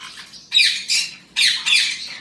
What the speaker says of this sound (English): I have 10 plus parrotlets in here, and they love it.